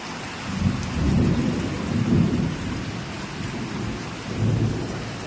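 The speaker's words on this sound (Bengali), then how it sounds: "বিশাল বৃষ্টি, বিশাল।" Heavy, steady rain pours down while low thunder rolls in several deep, swelling rumbles, with no voices.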